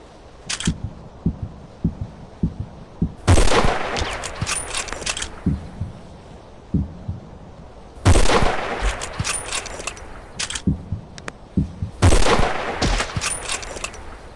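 Rapid bursts of sniper gunfire from a shooting video game, several loud clustered volleys separated by lighter single cracks and clicks, with no talking.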